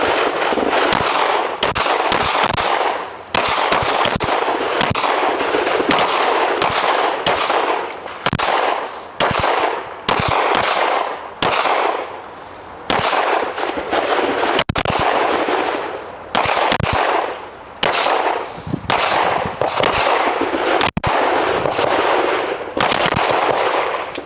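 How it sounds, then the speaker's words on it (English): Rifles fire at an outdoor shooting drill, many rapid overlapping shots from several shooters cracking loudly and nearly continuously, with short gaps between volleys. "On the command of threat, you guys can just open fire your top 4 circles."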